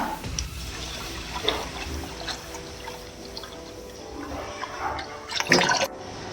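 Soaked sago pearls being washed in water, with soft sloshing, dripping and splashing, and a louder swirl of water near the end, no voices.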